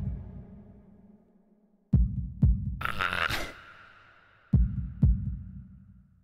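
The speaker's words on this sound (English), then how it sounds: "holding my breath in an attempt to hear my heartbeat" Video game heartbeat effect from Katawa Shoujo, two pairs of deep thumping beats spaced a few seconds apart, with a short burst of other sound between them and no talking.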